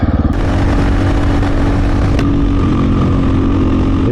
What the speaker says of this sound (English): Would I say that the Husky is a can go anywhere kind of bike?